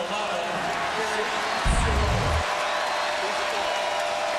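A college basketball crowd at an Iowa home game roars and applauds after a blocked shot and foul, a sustained wash of cheering beneath a brief low thump near the middle.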